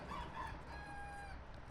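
A single rooster crows in a long drawn-out call, fairly distant and soft against a steady low background hum.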